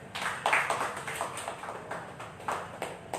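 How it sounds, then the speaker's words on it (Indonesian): An audience at a talk-show style event claps through the whole stretch, a moderately loud patter of scattered hands with no voices. "tepuk tangan yang sekeras-kerasnya"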